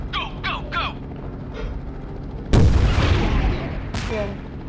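Explosions and gunfire from the Airship.C helicopter video game burst out loud, with a heavy boom and a crackling decay, a second blast following moments later, after quicker popping shots at the start.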